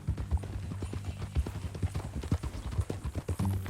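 Horse hooves clip-clopping at a steady walking pace in Red Dead Redemption 2, soft and fairly close, an even rhythmic plodding with light ambient background and no voices.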